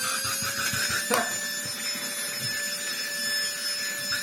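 A Greenote GCH01 7V cordless micro vacuum cleaner with a brushed motor runs in boost mode, producing a steady, high motor whine with a soft airy rush under faint handling knocks.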